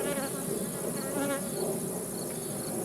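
A wild honey bee swarm buzzes steadily around its hive outdoors, a dense, continuous drone of many wings close to the microphone with individual bees whining past.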